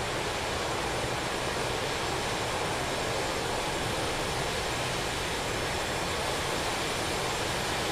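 An Su-25T jet taxiing on the ground in the video game DCS produces a steady, unbroken engine roar and hiss that holds at an even level throughout, with no voices.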